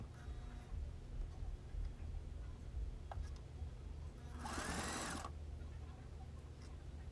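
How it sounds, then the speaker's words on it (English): A sewing machine back stitching a wig closure, a quiet ticking mechanical rumble with one brief louder whirring burst of stitching near the end, faint and close. "I'm gonna back stitch that just so that it's secure and ain't no edges flipping up"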